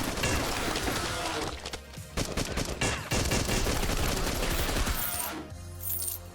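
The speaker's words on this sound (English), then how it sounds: "Assault rifle sounds pretty good too, though." Assault rifle fire in the cyberpunk shooter Beyond Sunset, a bullpup weapon unleashing rapid loud bursts of automatic shots with brief pauses between volleys, ending with clinking shell sounds.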